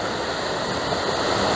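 At a waterfall campsite, water pours into a small river with a steady, dense roar that stays loud and unbroken throughout, with no voices.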